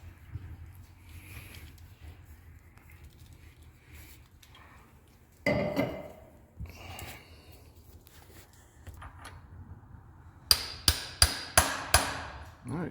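A new pilot bearing being driven into a BMW E46 M3 flywheel setup, a single heavy knock followed later by a rapid run of five or six sharp metallic hammer blows, close in a quiet garage.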